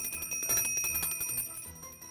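A hand bell is shaken, giving a bright, sustained metallic ringing with rapid repeated strikes that blur into a steady jangle, close and loud, with no talking.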